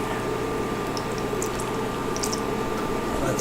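Falafel balls frying in hot oil, a steady dense sizzle and bubbling that holds evenly throughout without pause, with no voices over it.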